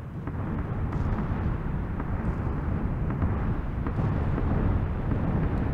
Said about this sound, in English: Bombs dropping all around us.